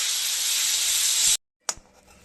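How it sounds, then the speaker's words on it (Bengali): Eggplant frying crisp in hot oil with turmeric and salt, a loud steady sizzling hiss that stops abruptly, then a sharp sputtering burst that quickly fades. "আর এটাকে কড়া করে ভাজবো।"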